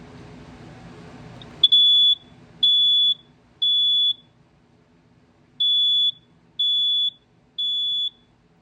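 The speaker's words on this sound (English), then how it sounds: "as you heard, it sounds just like a smoke alarm. You know, the horn's not modulated or anything." A System Sensor SYS-HS horn strobe sounds six loud, steady, unmodulated high beeps, each about half a second long and evenly spaced in two groups of three, with quiet room hum between them.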